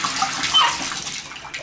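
Hot water runs steadily from a tap into a bathtub in a clean bathroom with tile floors, a continuous close splashing rush with no talking over it.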